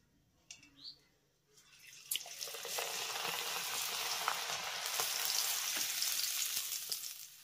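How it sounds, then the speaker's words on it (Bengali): Raw rice grains frying in hot oil over lowered gas heat, a steady bright sizzle swelling in after a few soft clinks and holding loud and continuous to the end, with no talking. "এই চালগুলো ভাজার সময় কিন্তু গ্যাসের আঁচটাকে একটু কমিয়ে দিয়ে ভাজবেন"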